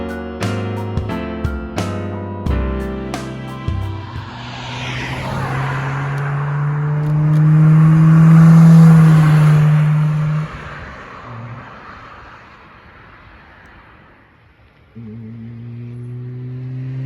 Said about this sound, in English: Ed driving by. Yeah. The car sounds wicked.